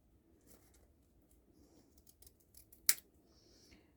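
Scissors cut paper in a few soft, scattered snips in a quiet room, with one sharp, louder snip near the end, and no one speaking.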